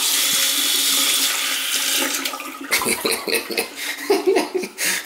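Water gushes from a faucet just after a valve repair, a strong steady rush for over two seconds before breaking into splashing, sputtering bursts as the flow is adjusted.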